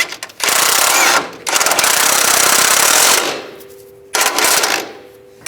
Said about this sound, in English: Now we can tighten the lower bolt.